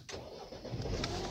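A car engine cranks and catches, a brief rising mechanical whir settling into a steady idle rumble, close by, with no talking.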